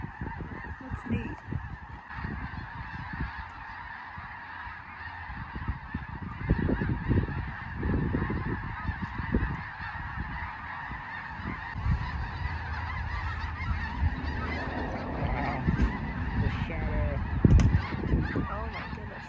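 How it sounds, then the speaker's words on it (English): A big flock of geese flying overhead outdoors honks continuously and loudly for nearly twenty seconds, the calls swelling and overlapping as the birds pass. "there was a huge flight of geese up in the air"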